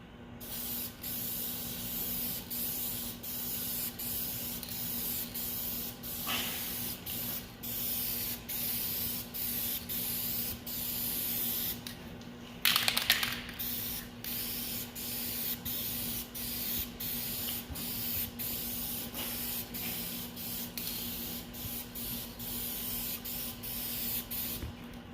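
A vehicle part with its tires masked off is spray painted without primer, a steady close hiss of aerosol paint running in long unbroken passes, with a brief louder burst near the middle and no speech.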